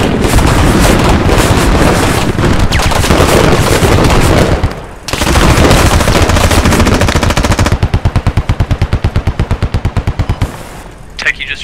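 Sustained bursts of M240G machine gun fire in a military video game, loud and close, with long continuous strings of shots breaking into rapid rhythmic bursts near the end.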